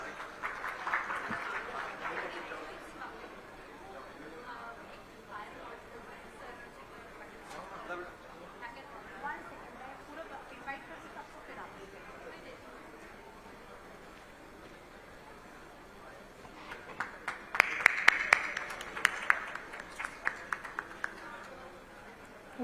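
Audience applause at an industrial development conference on patents breaks out near the end as a brief burst of louder clapping, after a long stretch of quiet room sound with faint voices.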